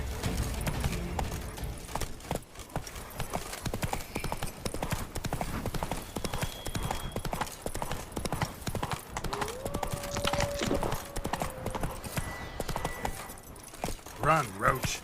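Roach, the horse in The Witcher 3: Wild Hunt – Blood and Wine, gallops with loud, driving hoofbeats that carry on throughout, mixed with game sounds and a voice speaking over them.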